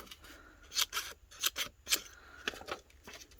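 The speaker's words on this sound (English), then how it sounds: "I have always wanted a little pair of these bird scissors" Small bird-shaped craft scissors snip in a handful of crisp, close cuts, the blades closing in short bursts separated by quiet pauses.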